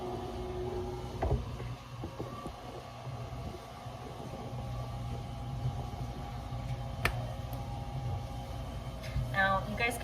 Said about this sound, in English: you guys can probably hear my dishwasher running in the background